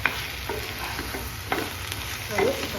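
Steamed biryani is stirred in a pot, a soft continuous sizzle and hiss with a few light scrapes of the spoon against the metal, close and steady, with no talking.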